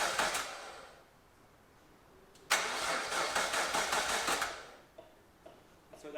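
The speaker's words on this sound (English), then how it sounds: "crank over a couple times, just get oil to move around the cylinders, the engine." A Nissan R33 Skyline engine cranks over with a rapid rhythmic churn, stops, then cranks again for a couple of seconds without catching, with the fuel fuse removed.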